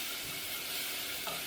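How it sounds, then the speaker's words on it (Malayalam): A medium-sized onion sautéing in a pan, giving a dense, even hiss of frying that runs unbroken throughout, close and moderately loud, no speech. "അത് നന്നായിട്ട് വഴറ്റിയെടുക്കണം."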